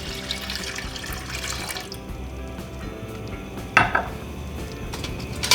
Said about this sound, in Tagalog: Pagkatapos ay ilalagyan na din natin ito ng tubig